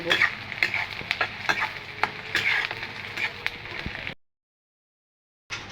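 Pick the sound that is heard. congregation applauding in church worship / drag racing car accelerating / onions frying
onions frying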